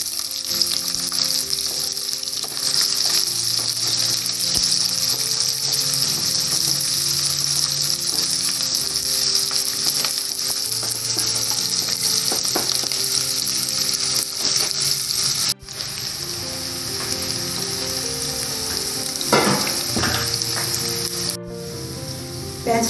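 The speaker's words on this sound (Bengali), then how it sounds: "তারপর দিয়ে দেব পেঁয়াজ কুচানো।" Chopped onions fry in a pan for a Soya Pulao, a loud, steady sizzle that runs unbroken, with a brief dip near the middle and faint stirring scrapes further on.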